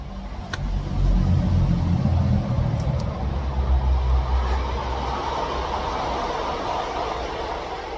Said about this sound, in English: Double train.